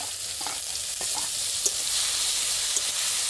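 Chopped tomato and ginger-garlic paste hitting hot oil with cumin seeds and bay leaf in a pan, a steady close hiss and sizzle with a few spatula taps and scrapes as it is stirred.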